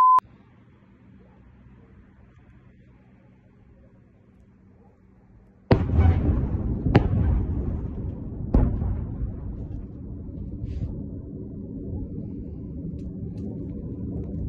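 Explosions in Bryansk, reportedly a strike on a Shahed drone depot, start as a sudden loud blast followed by two more sharp bangs, then a long rumbling wash after a quiet stretch.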